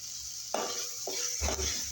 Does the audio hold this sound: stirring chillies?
yes